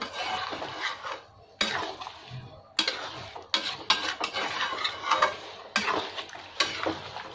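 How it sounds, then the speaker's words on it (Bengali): Kashmiri-style chicken cooked with yogurt being stirred over low heat in a pan, with repeated scraping strokes in bursts and a steady gentle sizzle between them, close and moderately loud. "এবার এটা খুব ভালো করে একটু কষিয়ে নিতে হবে।"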